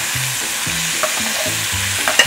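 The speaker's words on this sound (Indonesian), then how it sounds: "Sekarang kita mau goreng di sini." Chili and garlic sambal sizzles steadily in a pan over low heat, with a continuous bright frying hiss and a few soft stirring scrapes and clinks.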